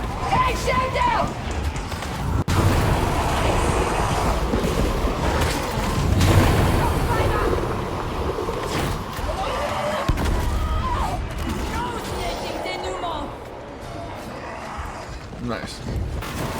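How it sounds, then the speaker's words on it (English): Explosions rumble and boom through dense combat in Warhammer 40,000: Darktide, set off by a Psyker build, with heavy thuds piling over constant gunfire and game noise, and voices under the din. "the explosion is not doing as much damage as I'd like it to"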